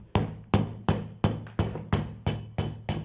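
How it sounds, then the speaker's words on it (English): Hammer blows on a leather sandal resting on an iron anvil, nine sharp evenly spaced strikes about a third of a second apart, each ringing briefly before the next, close and clear with no talk. "So I'm going to be hammering this on my anvil."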